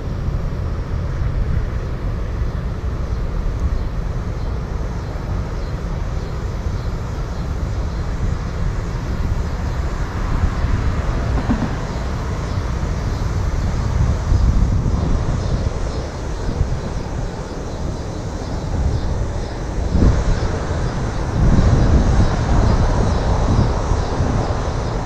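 A Zino Mini Pro drone flies over the James River in strong wind, its steady droning hum blended with continuous roaring wind buffeting, loud and unbroken throughout.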